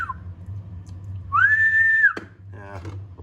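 A person whistles into the microphone of a Cobra 142 CB radio, one sustained, slightly rising tone lasting under a second, fairly loud over low radio hum, followed by a sharp click and faint keying noises.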